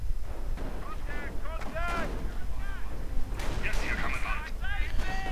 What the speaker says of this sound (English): Piat's firing away from this nice position here, heavy cover